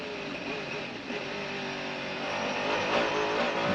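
Race car engine heard from onboard during a lap of the 1999 Le Mans 24 Hours through the Tertre Rouge esses, driven by Christophe Bouchut: a steady, loud, buzzing engine note rising slightly near the end, with commentary over it.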